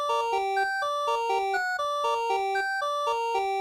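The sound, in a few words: synthesized pipe organ sound on Casio VL5 keyboard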